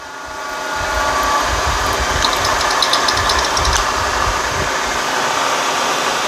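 A Tapmatic R5 tapping attachment runs at about 140 RPM with a steady, loud mechanical whir and hum from start to finish, alone without talk.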